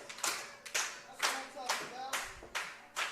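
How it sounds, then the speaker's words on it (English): Wrestling fans at a live show clap in a rhythmic, building pattern, about six distinct bursts of hand claps spaced roughly half a second apart, fairly close and loud, with faint crowd voices under them. "Trying to get a clap started"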